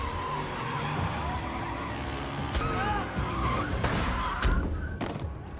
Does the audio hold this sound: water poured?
no